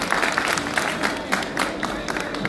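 Audience applause at an agricultural fair day event at FIDAK 2023, a dense burst of clapping from a crowd filling the whole moment, steady and fairly loud with scattered louder claps and light crowd murmur.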